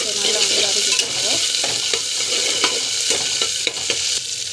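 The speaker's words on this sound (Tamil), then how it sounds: "இஞ்சி பூண்டு பேஸ்ட்டு ஸோ நல்லா வந்து வதக்கிட்டுருங்க." Ginger garlic paste sautéing in a pan for a jackfruit seed poriyal, a constant close sizzle broken by repeated scraping stirs from a spoon against the pan, with no voices.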